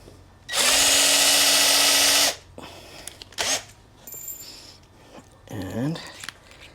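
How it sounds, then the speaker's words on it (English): A power drill bores a pilot hole into a stuck screw for a screw extractor, one loud steady whir lasting about two seconds, followed by quieter clinks, scrapes and handling noises. "So we're just going to drill a pilot hole."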